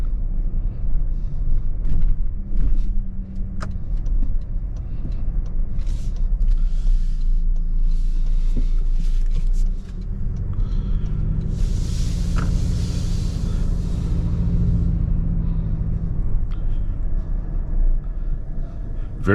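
Toyota Tacoma Trailhunter rolling slowly over speed bumps, a steady low engine and tyre rumble from inside the cab with soft thumps and rattles as the suspension takes each bump.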